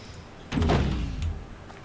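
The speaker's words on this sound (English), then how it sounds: "I thought I heard my door." A door opening in the video game Slime Rancher: one heavy thunk that swells and then fades away over a second or so, alone against quiet game ambience.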